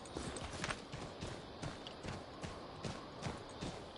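Horse hooves gallop steadily in Assassin's Creed III, a quick rhythmic clip-clop pounding throughout, up close and fairly loud with no talk over it.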